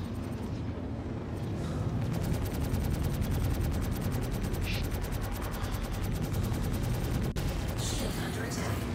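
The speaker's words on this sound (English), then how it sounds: "They're going to shoot some weapons on me or lock some missiles on me." A MISC Reliant ship takes sustained weapons fire against its shields in a space video game battle, a loud, continuous rapid rattle of impacts and engine roar with brief bursts standing out near the end.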